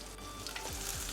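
Brief steady sizzle of shallots, garlic, green chili and curry leaves frying in oil for rasam, close and even, with a couple of soft scraping stirs and no talking.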